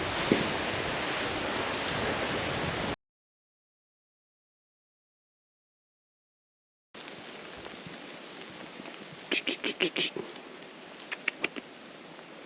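Waves and wind at Miners Beach on the Pictured Rocks National Lakeshore, a steady broad roar of surf with gusty microphone buffeting that cuts out for a few seconds, then returns with a cluster of brief bright tapping sounds.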